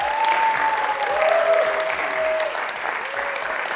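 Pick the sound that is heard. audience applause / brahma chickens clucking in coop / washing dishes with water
audience applause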